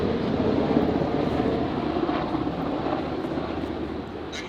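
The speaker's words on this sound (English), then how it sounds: "Helicopter in the air." A helicopter passes overhead in an urban Washington, D.C. neighbourhood, its broad, steady rotor and engine roar filling the background at a constant level without fading away.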